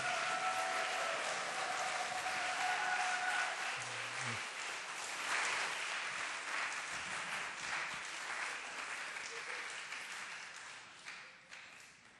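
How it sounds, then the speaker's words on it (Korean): A church congregation applauds to welcome a member during a new-family blessing service, broad clapping loud at first and gradually thinning and fading toward the end, with a few faint low knocks partway through. "앞으로 모실 때 큰 박수로 환영해서"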